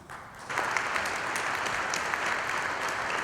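Audience applause welcoming a panel of speakers at a discussion on measuring innovation return, starting after a brief quiet moment and swelling into steady, dense clapping from a room full of people.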